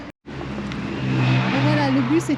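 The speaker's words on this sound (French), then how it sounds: "Maintenant, on va garer le bus." A bus engine rumbles steadily at close range while the bus is manoeuvred into its parking spot on rough, muddy ground, the drone rising slightly in loudness partway through after a brief dropout at the start.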